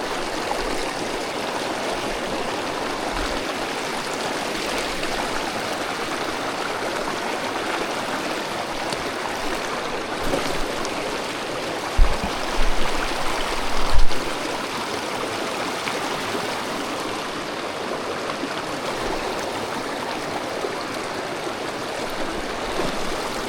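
Fast-flowing stream water rushes steadily and loudly throughout, a dense continuous wash with a couple of brief splashy bumps midway.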